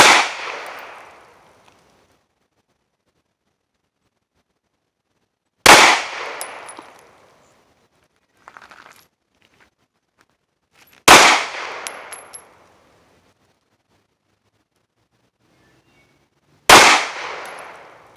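Walther PPQ pistol shots at a range, four loud, sharp single reports spaced several seconds apart, each with a short echoing decay, plus a fainter clack between shots.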